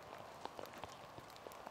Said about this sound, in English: Is the rain going to actually stop?